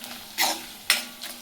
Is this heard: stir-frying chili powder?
yes